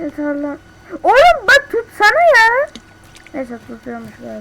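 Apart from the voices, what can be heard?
No everyday noises stand out.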